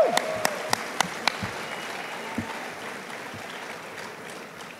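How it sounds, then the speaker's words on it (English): At a fan convention panel, a crowd breaks into applause after a few loud individual claps, settling into a steady mid-level patter of clapping that gradually fades. "Round of awesome. Applause."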